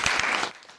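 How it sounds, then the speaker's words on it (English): Brief burst of applause from a JROTC class honoring a 93-year-old guest, dense clapping that fades quickly after half a second. "A round of applause."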